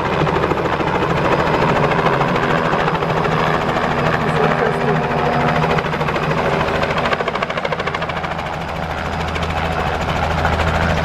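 A helicopter runs at a helipad, its rotor chop and engine drone loud and continuous throughout, holding steady with only a slight dip in level partway through.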